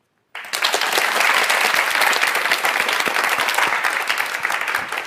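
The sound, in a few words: audience applause after a lecture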